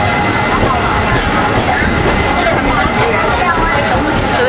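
Rolling rumble and rattle of a tram ride in Hong Kong, steady and close throughout, with a busy murmur of background voices over the running noise.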